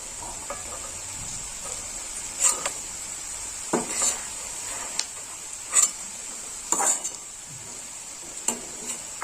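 Onions frying in a pan for a rohu fish kalia give a steady sizzle, broken by several sharp clinks and scrapes of a utensil stirring against the pan, with no talking.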